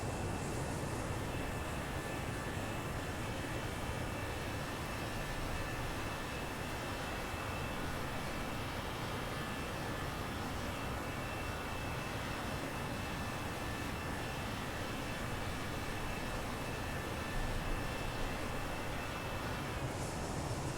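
Simulated engines of a JetBlue Toliss A321 airliner in X-Plane 11 give a steady, even drone that lasts throughout at moderate volume, with no speech over it.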